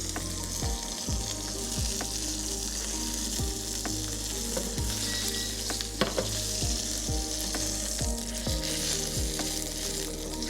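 A rare Wagyu steak sears in a hot pan with a loud, continuous sizzle. Beneath it, a low mechanical hum repeatedly dips and rises in pitch, and there is no talking.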